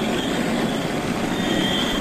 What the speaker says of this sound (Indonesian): lihat teman, ini kereta api militer. Jalannya sangat cepat teman-teman